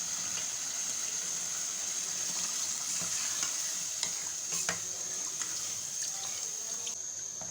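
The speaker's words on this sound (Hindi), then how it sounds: "अब मैं डालूँगी इसमें पानी।" Water poured into chicken nihari cooking in ghee and stirred: a continuous soft sizzle and bubbling hiss with light scraping clicks of a spoon, fairly quiet and steady with no talk.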